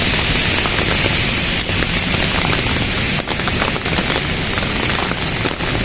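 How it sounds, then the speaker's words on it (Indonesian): Rain falls steadily on a rainy afternoon in Jakarta, a dense, even hiss that keeps close and constant throughout, with no talking. "Nggak enak ya hujan-hujan."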